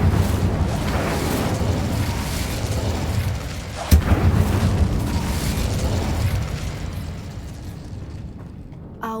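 Incendio fire spell cast in Hogwarts Legacy video game: a dense roaring whoosh of flame with a sharp crack partway through, then a rumbling burn that slowly fades.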